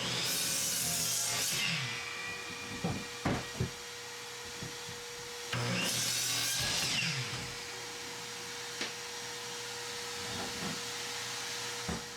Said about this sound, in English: On the miter saw, I squared off both ends of both boards, then cut the second one in half